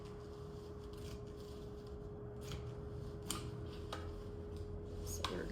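Scissors snip through fabric seams of a small Christmas table runner, a few quiet, isolated cuts spaced apart over a low steady hum in a calm room.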